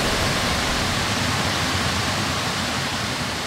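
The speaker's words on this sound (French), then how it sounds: "on entend en fait le chant de deux cascades différentes" Two small waterfalls on a river pour in a constant, dense broadband roar, steady and loud throughout with no pauses or voices.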